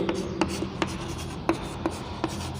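Chalk or marker strokes on a board during a science lesson, heard as a series of short scratchy taps and rubs about every half second, close and clear, with no speech.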